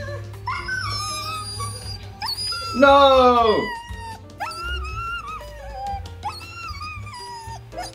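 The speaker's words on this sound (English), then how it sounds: "Use a fake dog whining sound effect." A fake dog whining sound effect plays from a phone, a series of high, wavering whimpers and wails with one louder, longer moaning howl in the middle, close and fairly loud, with a person's voice briefly heard.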